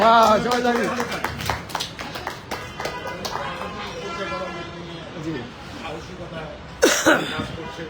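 Scattered audience applause for a film producer at an actress's birthday event celebrating her new movie: irregular claps with crowd murmur, then a louder burst near the end.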